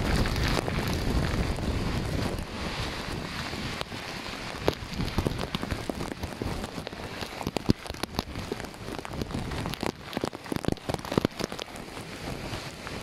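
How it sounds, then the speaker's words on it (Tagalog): Heavy rain pours steadily with gusty wind buffeting the microphone during Typhoon Kristine, a dense, loud, continuous roar with irregular bursts and crackles. "ngayon nagsabay na sila pareho, hangin at ulan na"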